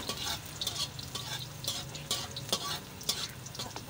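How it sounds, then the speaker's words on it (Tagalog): Garlic sautés in a pan for adobo, with a steady low sizzle and repeated sharp scrapes and clinks from a ladle stirring it, close and fairly quiet. "Gisa natin yung bawang."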